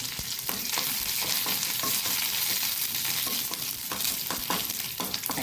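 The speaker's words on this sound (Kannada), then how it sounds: "ಸಾಸಿವೆ ಹೊಡೆದ ಕೂಡಲೇ ಆಫ್ ಮಾಡ್ಕೊಳ್ಳೋದು" Mustard seeds spluttering in hot oil with curry leaves during tempering for bimbli gojju, a loud close crackle and sizzle with scattered sharp pops, no voices.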